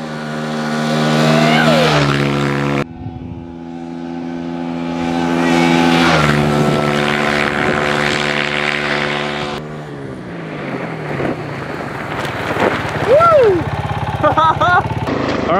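A Kawasaki KLX140RF dirt bike roars loud and close during a top-speed flyby, its engine winding up through several gear changes with sharp breaks between pulls and a rising, falling pitch as it passes.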